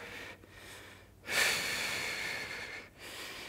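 Close, heavy breaths during a core strength workout, a few soft inhalations and then a long, forceful exhale that swells loudly and trails off before another short breath, with no talking.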